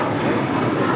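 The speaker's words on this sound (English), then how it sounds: "This is United Airlines 797 taking off to Los Cabos on an A320" Airbus A320 jet of United Airlines taking off from LAX runway, a steady loud broadband engine roar filling the whole second without a break.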